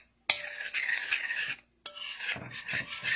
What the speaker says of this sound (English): Give it a little mix.